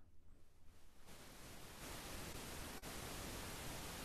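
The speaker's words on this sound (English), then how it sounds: "So pink noise." A pink noise test signal for audio and video effects work plays as a steady, dense broadband hiss, quieter for the first second, then stepping louder, with one brief dropout near the end.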